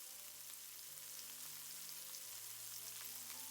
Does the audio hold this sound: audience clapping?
no